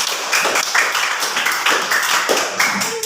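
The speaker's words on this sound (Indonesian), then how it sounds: "Tepuk tangan dulu untuk kelompok 2." A classroom of students claps for a presenting group, a loud, near patter of hands beating out a quick, repeated rhythmic pattern with no talking.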